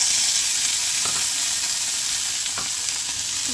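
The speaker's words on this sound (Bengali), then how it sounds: "এখানে আমি একটু চিকেনটা ভাজি করছি। একটু চিংড়ি মাছও দিয়ে দিচ্ছি" Chicken and shrimp fry in a pan with onion, garlic and green chili, a loud steady sizzle close up with a couple of light stirring scrapes and no talk.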